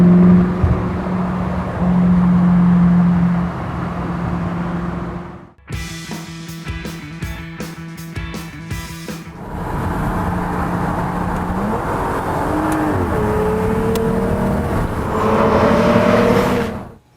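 A classic English car fitted with an American engine drives along. Its steady engine note climbs and falls through gear changes, and a sharp rhythmic clatter cuts in through the middle.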